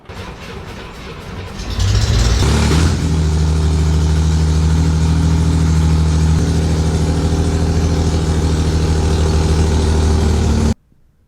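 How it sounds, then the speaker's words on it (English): A Chevrolet Corvair chop top's engine cranks briefly, catches and settles into a loud, steady idle with a deep rumble, then cuts off abruptly at the end. "Just gonna get it started and fill the oil filter up."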